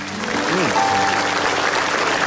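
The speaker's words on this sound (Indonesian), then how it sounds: "Tepuk tangan untuk Pak Marwoto" A studio audience applauds steadily throughout at a comedy talk show, a dense even wash of clapping with a faint tone and a brief vocal sweep rising above it.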